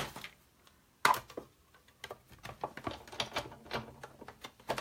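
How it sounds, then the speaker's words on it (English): Die-cutting machine running sticky paper through a 4 by 5 1/4 inch die, a sharp clunk near the start followed by a quieter series of rapid clicking, ticking bursts, close by with no talk. "I'm going to die cut this up here"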